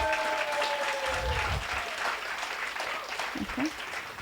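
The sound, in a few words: audience applause for the men supporting the entrepreneurs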